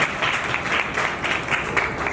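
Sustained audience applause at an aviation talk with Captain Zoya Agarwal: dense, steady clapping from a large crowd, moderately loud, with no voices over it.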